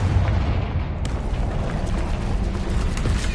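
Confringo blasting curse in Hogwarts Legacy, a dense, sustained rumbling explosion with crackling debris that stays loud and close throughout, with no talking.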